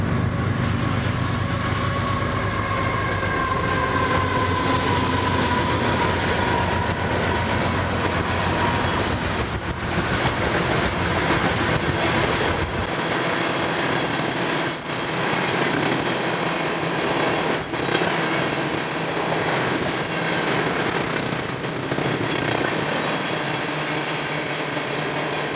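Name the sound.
freight train OSJWU led by Union Pacific locomotive UP 7470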